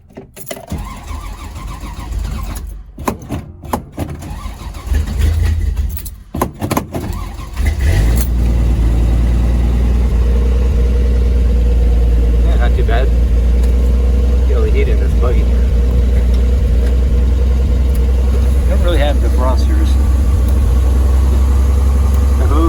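A 1966 Dodge Dart GT on a chilly morning cranks in several choppy bursts with people talking, then catches and settles into a loud, steady rumbling idle that runs on close by.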